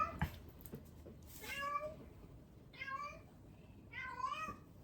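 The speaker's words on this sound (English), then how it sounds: "you're just gonna look at my cat now, aren't you?" A house cat meows several times, rising, drawn-out calls spaced a second or two apart, fairly close but soft in a quiet room, after a brief bit of talk at the start.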